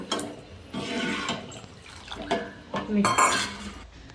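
A bowl of tamarind water poured into a pot of hotel-style sambar with pumpkin and drumsticks: several short, splashy gushes of liquid with a metallic clink near the end, close and fairly loud.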